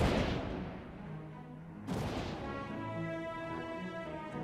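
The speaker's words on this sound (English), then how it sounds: "head up the ladder and shoot the cannon" A cannon fires in a video game, one loud booming blast followed by a rumbling tail, then a second heavy shot partway through with lingering echoing resonance.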